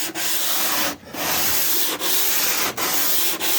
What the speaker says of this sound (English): This here is a 40 grit piece of sandpaper, and I'm going to take the sandpaper